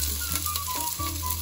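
Chile sizzles in hot olive oil in a skillet, a close, continuous frying crackle with steady hiss and small pops for the whole moment, no talking.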